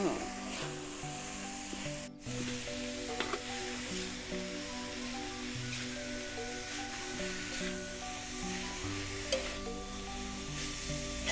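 Boiled, washed bamboo shoots stir-fried in a pan, a steady close sizzle with scraping stirs throughout, under background music.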